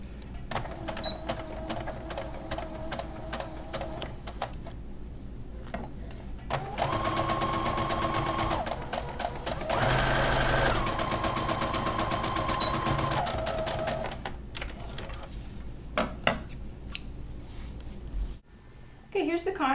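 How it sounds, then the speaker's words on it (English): A sewing machine stitching a short seam with a half-inch seam allowance on pant contrast pieces, two close bursts of steady whirring separated by a brief pause, with a person talking before and after. "I'm going to sew this short seam on the end with the 1/2 inch seam allowance this time"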